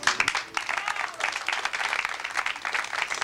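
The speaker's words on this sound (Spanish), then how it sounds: "aplauso para ella, fuerte las palmas" An audience at a live local show gives a short burst of applause: dense, steady clapping from many hands, moderately loud and close, with faint crowd voices mixed in.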